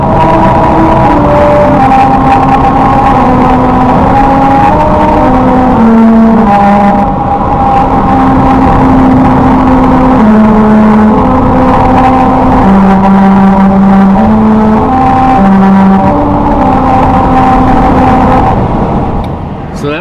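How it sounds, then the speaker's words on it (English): Subaru tires roll over the grooved musical road on Route 66 at about 45 mph, loud and droning, the rumble shifting in pitch step by step to play the melody of America the Beautiful. "America the Beautiful, played by our Subaru on Route 66."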